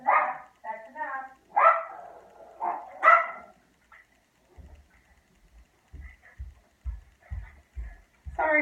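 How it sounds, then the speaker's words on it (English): Dogs barking indoors at something outside, a burst of several loud, close barks followed by quieter scattered yips, with a person speaking between the barks. "My dogs love to bark at anything that's outside"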